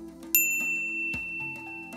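A bright, clear bell ding rings out once, its tone ringing on before softer chimes follow over a quiet background.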